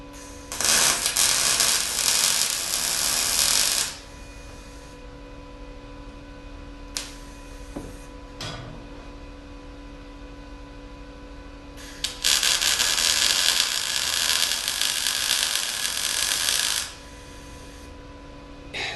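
Tack welding on the front frame of a Countach replica: two long bursts of harsh, crackling weld noise with a steady hum in the gaps, close and fairly loud.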